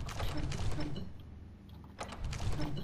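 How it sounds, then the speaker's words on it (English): A door in the video game Skyrim creaks open with a mechanical, ratcheting groan, fading midway and then returning as a second creaking burst, with a faint voice underneath. "I opened the door for a reason."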